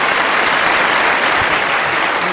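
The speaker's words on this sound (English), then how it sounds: "let's give him a round of applause" Crowd at a live recorded show applauding for a guest named JJ, a continuous, fairly loud burst of clapping with no talk over it.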